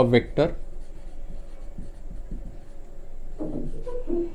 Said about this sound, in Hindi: तो उसकी डेफिनेशन भी लिख लेते हैं।